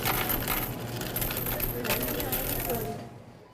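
Pennies poured out for exchange make a continuous bright clatter and jingle of many coins, loud and close for about three seconds before tapering off.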